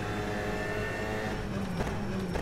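Alpine A110 GT4 race car with a 1800 turbo engine in rFactor 2, a muffled, subdued engine drone holding a steady pitch with a shift or lift near the end, continuous and without voices.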